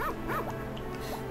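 Small dog barking and yipping in the Harvest Moon: Friends of Mineral Town video game, short high yips repeating over steady background game music.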